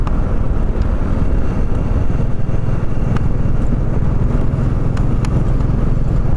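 A Royal Enfield-style classic 350cc motorcycle rumbles steadily on a winding mountain road from Assam toward Shillong, its continuous low engine drone mixed with heavy wind rush against the microphone.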